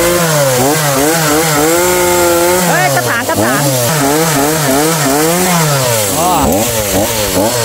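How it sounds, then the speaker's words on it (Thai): A petrol chainsaw runs loudly up close while cutting a tree at a garden home, its engine pitch swinging up and down continuously as it bites into the wood and then releases. "เลื่อยยนต์ที่เราซื้อมาเลื่อยยนต์น้ำมันเป็นไง"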